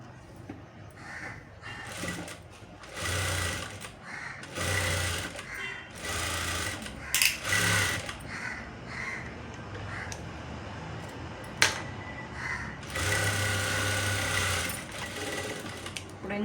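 A sewing machine stitches lace onto a saree blouse in repeated bursts of rapid whirring and clattering, separated by short pauses, with a few sharp clicks between runs, close by and loud.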